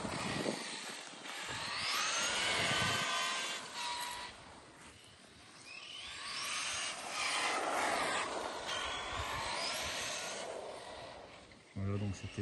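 A Losi DB Pro RC buggy drives on an outdoor track, its motor whining and rising and falling as it speeds up and slows, with a high-pitched buzz and a final burst of revving at the end.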